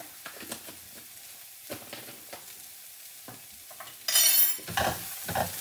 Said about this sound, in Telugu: ఇవన్నీ కొంచెం మనం మంచిగా ఫ్రై చేసుకున్నాము